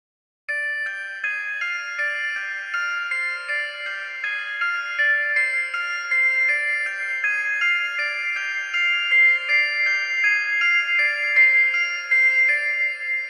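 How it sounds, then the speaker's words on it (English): A piano melody in FL Studio Mobile, processed with reverb, a graphic equalizer and a special effect, sounds washed and thin with smeared sustained notes, playing steadily and alone for about thirteen seconds with no talking. "I add reverb, graphic equalizer, special effect, and will be sound like this."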